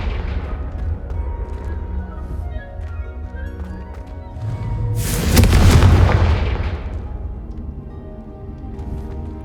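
Confringo fire spell from Hogwarts Legacy bursts in a loud, deep explosion about five seconds in, swelling then fading over a low game rumble with faint tonal background music.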